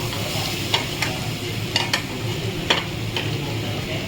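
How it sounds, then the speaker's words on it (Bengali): Fried potato and green chili are stirred in a frying pan while cooking a ridge gourd, potato and moong dal dish: a steady sizzle broken by a few sharp spatula scrapes and knocks. "এবারে আমি ভাজা আলুটাকে দিয়ে দিলাম এর মধ্যে। দিয়ে দেখো কাঁচা লঙ্কাটা আমার কাটা ছিল, ওটাও আমি দিয়ে দিয়েছি। দিয়ে এটা কিছুক্ষণ নাড়িয়ে নিচ্ছি"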